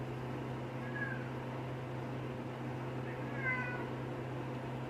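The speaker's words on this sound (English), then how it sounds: "Cat's crying because I'm using all the milk." Two short cat meows, one near the start and a longer one later, over a steady low mechanical hum from a freeze dryer.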